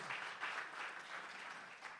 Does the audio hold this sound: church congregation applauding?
yes